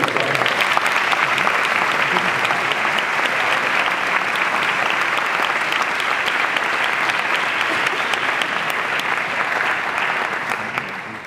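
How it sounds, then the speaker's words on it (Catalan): Steady, full applause fills a hall at a poetry award ceremony, a broad even wash of many hands clapping that holds for over ten seconds before easing slightly at the close. "Un fort aplaudiment per ells."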